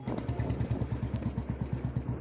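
A motorcycle being ridden, its engine putting out a fast, even chugging pulse that stays close and moderately loud throughout.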